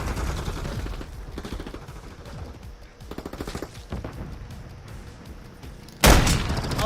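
Video game gunfire rattles in dense bursts, then a grenade explosion booms loud and near toward the end, with the shooting continuing after it.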